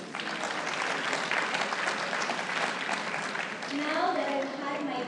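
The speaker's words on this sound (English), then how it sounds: "Another round of applause." An audience at a business school lecture gives a steady round of applause, dense sustained clapping from a full room, with a voice rising over it near the end.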